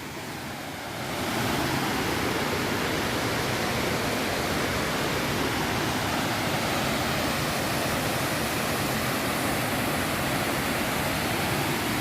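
A rushing waterfall in the Kolli Hills forest roars as a broad, constant wash of white water, loud and unbroken after a brief quieter start.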